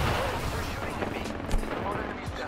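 Rapid gunfire in an online shooter video game, a dense stream of shots with sharp cracks and a heavier thump midway, loud and continuous, with a voice talking faintly underneath.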